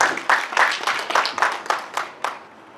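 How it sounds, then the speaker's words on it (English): An audience applauding a speaker being welcomed at an eminent speaker series event, a brief round of clapping with distinct claps close by that tapers off after a few seconds. "A big round of applause for him"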